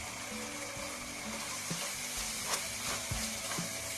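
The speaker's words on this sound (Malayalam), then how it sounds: "നമ്മുടെ മസാലക്കൂട്ടുകളെല്ലാം തിളച്ച് വന്നിട്ടുണ്ട്." Spiced masala simmering in vinegar for a Kerala-style sardine pickle, a steady low bubbling sizzle with soft pops and occasional stirring scrapes, close and fairly quiet throughout.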